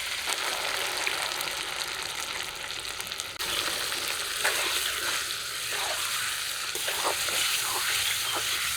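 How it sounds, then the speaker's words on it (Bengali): Pieces of country chicken, coated in onion, garlic and ginger paste, sizzle and crackle loudly in a hot pan, a dense continuous frying hiss with occasional stirring scrapes. "মাংসের পিসগুলো একদম ভাজা ভাজা হয়ে গেছে এখনই বাটা মশলা আর গুঁড়ো মশলাগুলো দিতে হবে"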